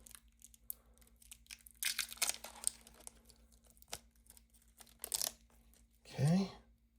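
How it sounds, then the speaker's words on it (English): Plastic wrap is peeled and crinkled off an SKXMOD steel watch bracelet for a Casio AE-1200, making several short, close tearing and rustling bursts between quiet gaps, with a brief voiced sound near the end. "Let's take the plastic off of this."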